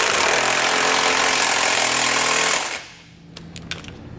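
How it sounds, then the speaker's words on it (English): A power impact wrench with a 7/8 socket hammers loudly and steadily, tightening the nuts of a Curt trailer hitch receiver on a 2018 Chevrolet, then stops abruptly, followed by a few faint clinks. "For our 9/16 nuts, I'm going to come back with a 7/8 socket and tighten them up."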